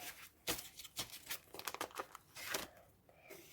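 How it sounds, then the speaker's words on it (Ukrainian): A small paper surprise packet is opened by hand, with a run of crisp crinkling and tearing bursts close up, several sharp rustles spread across a few seconds. "Ось цей пакетик ми з вами відкриємо"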